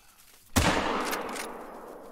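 A single 45-70 rifle shot rings out in the hunting game Call of the Wild, a sharp loud crack followed by a long, slowly fading echo rolling across open terrain.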